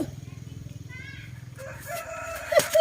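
A rooster crows partway through at moderate distance, a drawn-out call rising over a low background hum.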